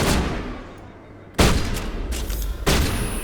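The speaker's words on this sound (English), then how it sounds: "Are we using my sniper rifle at close range?" Sniper rifle fire in the Mass Effect video game: two loud, sharp shots with a hard attack, each trailing off into a reverberant decay, with a lower rumbling stretch before the first shot.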